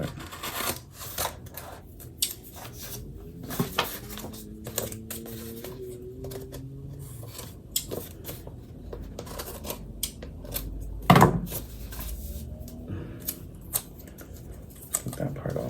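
Scissors cutting paper for a Christmas planner, a run of crisp snips and rustles with paper handling between cuts, close and moderately loud, with a voice talking intermittently.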